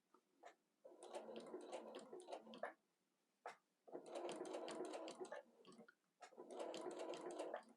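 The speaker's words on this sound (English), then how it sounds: "I'm using my walking foot and I'm just following the curve." Sewing machine with a walking foot quilting a curved seam on a Dresden Plate quilt: three steady runs of rapid, close mechanical stitching chatter, separated by short pauses, with no voices.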